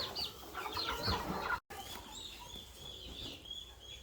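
Laying hens clucking and chattering softly at a middle distance on a homestead, with a steady outdoor background and a brief dropout partway through.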